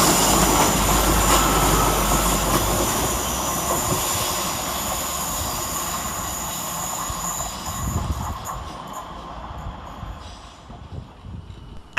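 Two coupled Class 153 diesel trains of Transport for Wales power up the hill at Edge Hill station in Liverpool with a loud rumble, wheel squeal and rail noise that gradually fade as they pull away.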